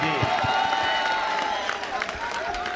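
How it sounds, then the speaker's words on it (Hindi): An audience claps loudly at a mushaira poetry gathering, a dense continuous wash of hands with scattered crowd noise and a few sharper claps throughout. "एक बार दोनों हाथ खड़े करके जोरदार तालियां बजाएं जितेंद्र अवार्ड साहब के लिए।"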